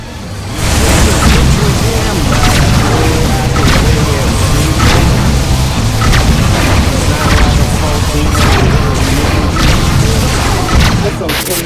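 Missiles striking a spaceship in the space combat game Rebel Galaxy, a loud, continuous barrage of booming impacts and crackling blasts layered with dense rumbling effects, plus brief synthetic voice callouts.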